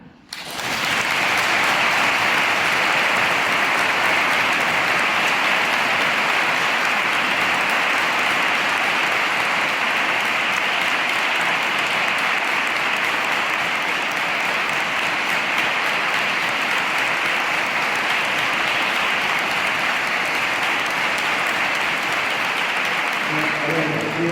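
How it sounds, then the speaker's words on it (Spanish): Sustained applause from the congregation at a funeral Mass for the priest's sister, a dense, steady wash of clapping that starts abruptly and holds at an even, fairly loud level for over twenty seconds before easing slightly at the end. "Os invito a darle un aplauso a mi hermana"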